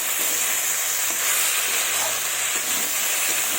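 Bottle gourd cooked with jujube sizzles and hisses loudly and continuously in a pan as it is stirred, with no voices over it.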